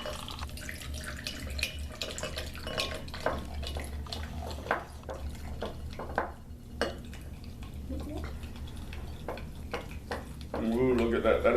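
Water pours and splashes into a fake snow mixture while it is stirred, with scattered clinks and drips and a steadier pouring stream near the end, under occasional talk.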